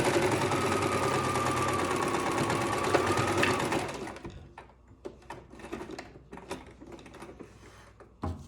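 A sewing machine runs steadily for about four seconds while stitching a seam that fastens a small extender strap to a bandana visor, then stops; quieter scattered clicks and handling taps follow.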